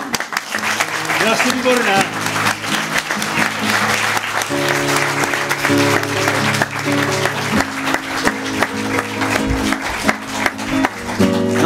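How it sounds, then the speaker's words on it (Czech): An audience at an evening talk event applauds continuously, dense and steady clapping from a room full of people, with people speaking briefly over it. "Já ti tleskám."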